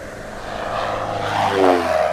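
Test airplane flying a low approach over the runway at Kukës airport, passing without touching down; a steady, loud engine roar builds and swells toward the end as it comes overhead.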